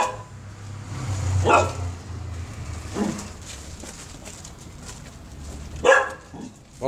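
A dog barks in a few separate loud bursts, close by, with some faint whimpering and yips between them over light background noise.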